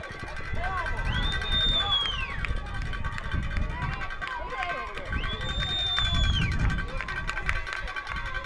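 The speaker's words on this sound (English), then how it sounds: "the Texans crowd here to the left on the third base side cannot believe it" Crowd on the third base side at a Richland vs. Northwest softball game, a steady murmur of spectators with a rising groan of disbelief, under a commentator's voice and whistle-like tones.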